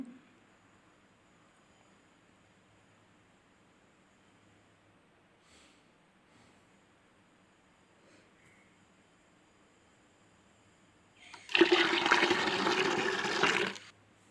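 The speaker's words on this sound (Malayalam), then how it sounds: "കുറച്ച് ലിക്വിഡായിട്ടുള്ള വളം നേർപ്പിച്ചിട്ട് ഒഴിച്ചു കൊടുക്കുവാണ്" A long near-silence, then a short, fairly loud gush of diluted liquid fertilizer being poured onto spinach plants for a couple of seconds near the end.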